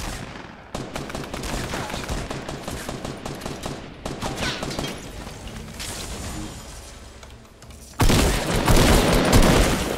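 A shotgun fires in a video game amid a thick, loud barrage of overlapping gunfire and blasts. The firing runs continuously with sudden intensifications, the loudest near the end.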